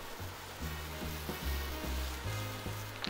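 Onions and garlic sauté in a pan, giving a steady, close, bubbling sizzle with soft low thumps of stirring throughout, and nobody speaking.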